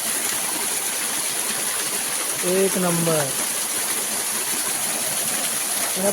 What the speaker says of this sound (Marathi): वरतून असे पाण्याचे प्रवाह खाली येतात